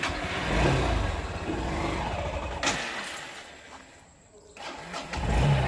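A car engine starts and revs for several seconds, then dips toward idle before picking up again, fairly close and loud.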